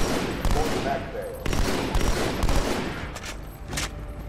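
Gunfire in the Halo 2 video game on Cairo Station: repeated bursts of rapid shots come in waves about a second apart over a constant busy battle din, loud and close.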